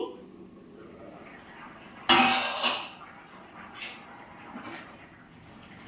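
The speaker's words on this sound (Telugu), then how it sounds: "మూత తీసి చూద్దామండి" A metal pot lid lifted off a simmering paneer methi curry gives one sharp loud clank, followed by softer clinks of the lid against the pot in a quiet kitchen.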